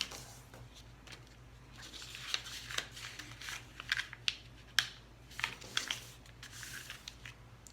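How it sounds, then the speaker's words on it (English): Square origami paper being folded by hand, straight edge brought to a middle crease, with soft crinkling, creasing swipes and scattered sharp paper snaps, close and fairly quiet. "now I'm going to take the bottom of that paper and fold the straight line to meet the middle straight line"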